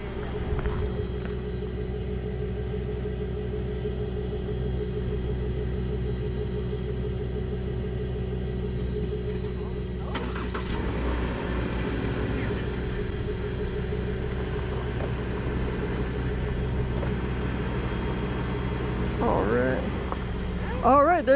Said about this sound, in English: If you want to put it in drive and just see if you can roll really slowly forward